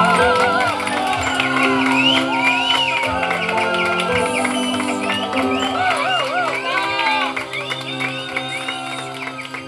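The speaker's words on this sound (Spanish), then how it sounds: "¡Fuerte las palmas!" Guests at a 50th birthday party cheer, whoop and applaud as family members are welcomed, a loud lively crowd roar with shouts and clapping, and an announcer's voice over the noise.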